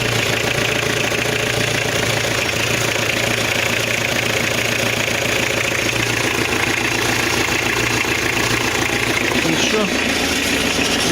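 A Fiat car engine runs loud and steady, a harsh, rattling, ringing mechanical roar that fills the whole stretch without letup.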